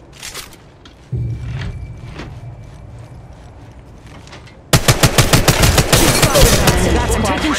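Automatic weapon fire in the battle royale mobile game Apex Legends Mobile, a few sharp shots and a low rumble giving way to a loud rapid burst of close gunfire near the end.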